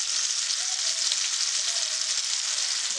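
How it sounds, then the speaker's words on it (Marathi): Fish fries on one side in a hot pan, a loud, even, unbroken sizzle that holds steady throughout without pauses. "एका बाजूने छान अशी तळून घेऊया."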